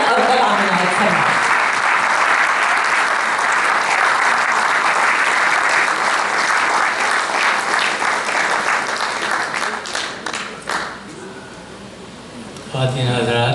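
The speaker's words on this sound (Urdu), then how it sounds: "آپ سب کی بھرپور تالیوں میں" Audience at an international mushaira poetry event breaks into sustained, loud applause that fills the hall for about ten seconds before fading, with a voice speaking over its tail and after it.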